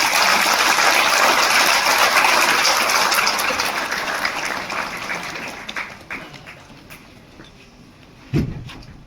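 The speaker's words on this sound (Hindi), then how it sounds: "पुनः तालियों के साथ अभिनंदन।" A crowd applauds loudly at a security leadership summit award presentation, the clapping gradually fading out over several seconds before a final thump.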